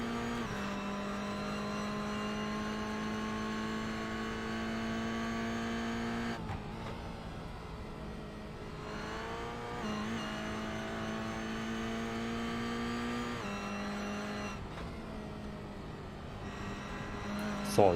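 An S5000 formula-style race car with a winged body and an LS V8 holds a steady, throaty, meaty engine note at an endurance charity race at Zolder, loud and sustained, with brief lifts in pitch before the note settles again.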